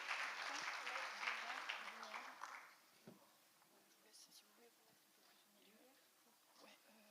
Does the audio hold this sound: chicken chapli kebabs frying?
no